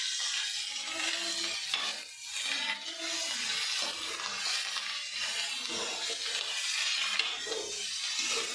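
Vegetable curry (shaak) being stirred in a frying pan gives a steady broadband sizzle with soft scraping and stirring, close and continuous with no talking.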